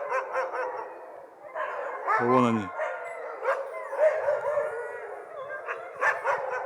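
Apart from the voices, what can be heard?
sled dogs barking and howling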